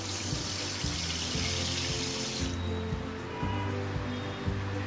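About ten cups of water pouring into a pot for sugar syrup, a steady close splashing gush with rhythmic low sloshing as it fills.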